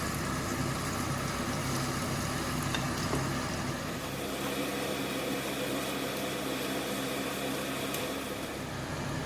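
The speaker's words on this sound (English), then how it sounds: "I'll use this remaining oil now to fry the masala for the biryani." Masala frying in leftover oil for Kerala chicken biryani, a steady, soft, hissing sizzle close by with a low underlying hum, continuing without pause and no voices.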